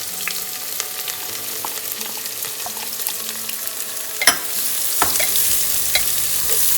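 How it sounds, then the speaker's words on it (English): Thinly sliced onions sauté for a mutton curry, giving a close, steady sizzle dotted with light stirring scrapes, then a sharp utensil clack followed by a louder, fuller frying hiss; no voices. "You have to saute it really well because that's the key to the great mutton curry"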